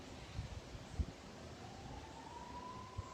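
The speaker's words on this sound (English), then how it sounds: "Oh, I hear the sirens." A distant siren wails faintly, one thin rising tone drifting over quiet outdoor background noise with a few soft thumps, and no speech.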